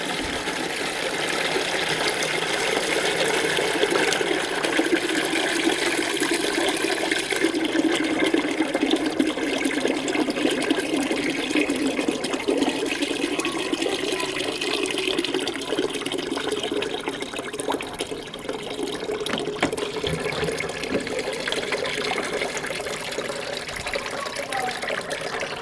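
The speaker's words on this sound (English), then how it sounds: "we're gonna let the sanitizer hit each side and then drain" Sanitizer water drains from an SLX 400/500 soft-serve mixer bowl as a steady rushing, trickling wash of liquid that runs continuously throughout, fairly loud and close.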